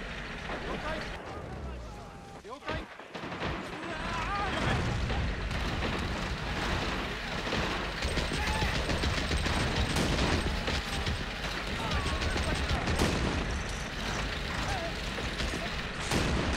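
Mortar explosions in Call of Duty: World at War, dense rumbling booms and blasts piling up continuously and loudly, with players talking over the battle noise throughout.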